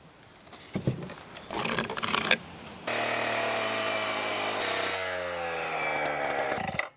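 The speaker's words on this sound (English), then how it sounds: "I only had to saw cut that little bit" A power saw cuts natural stone veneer, starting with some scraping and handling noise and then a loud, steady, high grinding whine for about two seconds that drops in pitch as the blade spins down.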